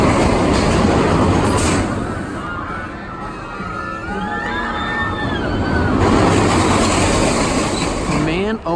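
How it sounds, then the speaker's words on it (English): The Montezuma's Revenge roller coaster at Knott's Berry Farm races along its track with a loud rushing roar of wheels and wind that rises and falls, with riders' voices and screams mixed in throughout. "Oh man, Montezuma's Revenge, such a fantastic coaster."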